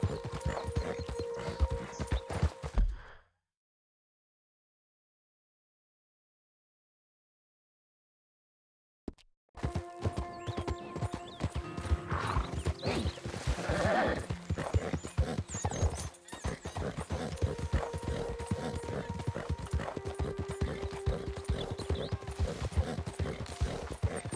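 In Red Dead Redemption 2, steady clip-clop of horse hooves, with whinnies, after a few seconds of silence; a continuous trotting rhythm, fairly close.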